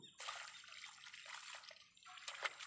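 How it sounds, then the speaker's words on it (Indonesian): Water pours and splashes in a steady soft stream while soaking a newly planted Madu Deli guava tree, close by and quiet, with brief pauses and a few gurgling drips. "kita akan siram sampai kuyup."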